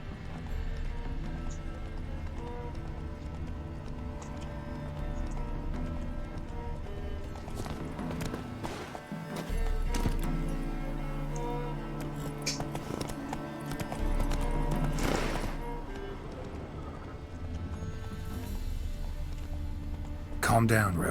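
Horse hooves clip-clop steadily across the ground in the video game Witcher 3, a close, continuous trotting rhythm running under voices and game sound.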